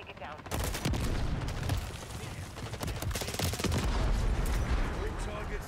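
Machine gun fire from a mounted MG on an armored vehicle during a Modern Warfare 3 campaign battle, sustained dense bursts mixed with other gunfire and explosions, loud and continuous with voices under the din.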